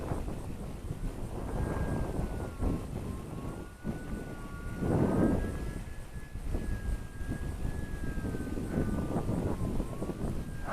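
The small electric motor of a 113 g, 620 mm Arrows Pioneer micro RC bush plane whines as it flies on a windy slope, its pitch rising and falling, with gusts of wind buffeting the microphone.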